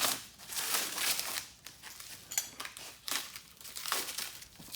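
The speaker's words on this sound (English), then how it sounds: "So I'm just going to unwrap it real quick" Packaging crinkles and rustles as it is pulled off a blacksmith's anvil, close and fairly quiet, in irregular bursts of crackly tearing and crumpling with no voices.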